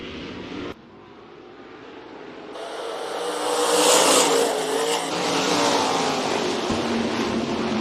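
IMCA RaceSaver sprint cars racing at Rapid Speedway, their engines swelling into a loud, sustained roar as the pack passes close by, then holding a steady distant drone over the track.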